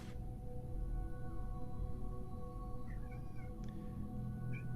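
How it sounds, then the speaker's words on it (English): A house cat meows indoors in a few short, faint calls over a steady background hum, with no one talking over them. "What you meowing about?"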